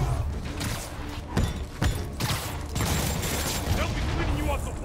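Rapid bursts of gunfire from guards' weapons in the Spider-Man Remastered game, with sharp shots and thuds cutting through a dense action mix while a voice talks over it.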